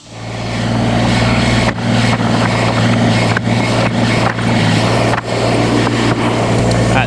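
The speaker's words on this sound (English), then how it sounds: "Caden, you grab the tractor and pull it over here, and we'll load you up with the lumber that we just cut" A tractor engine runs loud and steady while hauling freshly sawmill-cut lumber, a continuous low rumble with a few brief dips throughout.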